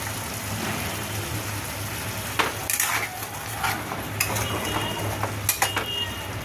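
Tomato paste with ginger-garlic paste and spices stirred in a pan, soft scraping and occasional sharp clinks of a utensil against metal over a low steady sizzle and hum.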